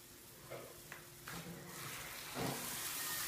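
Water poured into jaggery in a pan to make syrup for til ladoos gives a soft, faint hissing sizzle that swells toward the end, with small stirring scrapes and no voices.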